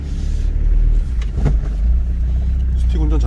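Manual-transmission car driving along a rough, almost off-road track near a campsite below Hallasan, with a steady loud engine rumble and bumping throughout while people talk inside the cabin.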